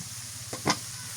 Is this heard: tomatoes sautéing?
yes